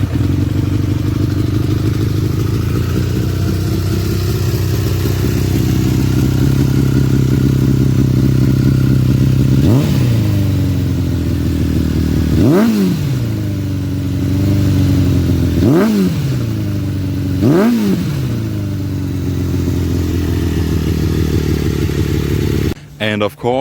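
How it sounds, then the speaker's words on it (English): An inline four-cylinder motorcycle engine idles steadily and loudly, with several sharp throttle blips rising and falling in pitch along the way. "that amazing sound came out of the 4-cylinder engine"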